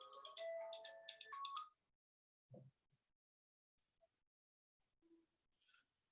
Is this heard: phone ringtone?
yes